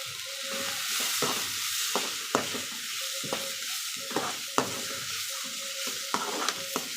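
Cumin sautéing in oil for a chickpea curry, a continuous bright sizzle broken by repeated clacks and scrapes of a spoon stirring in the pan.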